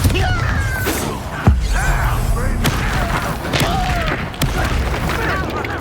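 Bombarda blasting spells going off in Hogwarts Legacy, with a sharp thudding boom near the start and further bursts spread through a busy mix of game effects, music and speech.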